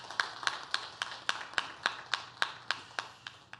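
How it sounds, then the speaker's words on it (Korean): A church congregation gives a round of applause at a New Year's Eve service, picked up faintly as a steady, evenly spaced run of single sharp claps, about three per second, over a low hum. "우리 다 함께 영광의 박수 올려드리도록 하겠습니다"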